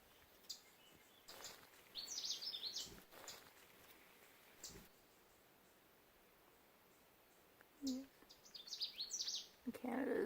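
Several short, high warbling song phrases from a Canada warbler ring out in bursts, faint and somewhat distant, over quiet rustling background.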